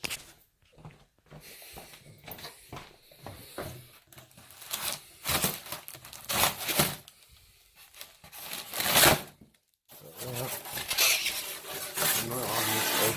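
Someone cuts and tears into the cardboard and plastic packaging of a Dyna Glo 5 burner gas grill, making close rubbing, rasping and tearing sounds in irregular bursts with short pauses between them.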